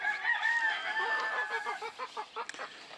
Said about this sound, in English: All the Polish hens, except for that one and the Bantam, are in here now.